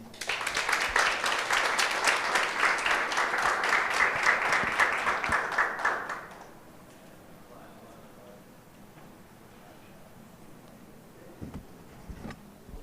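Dense applause from a crowd fills the first six seconds, then fades out, leaving quiet room noise with a few faint knocks.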